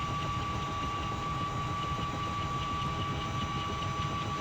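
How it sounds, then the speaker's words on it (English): A Mil Mi-2 helicopter in the X-Plane 11 flight simulator runs with its rotor up to speed, giving a steady, even drone with a thin whine on top and no talking. "So the rotor's up to speed now."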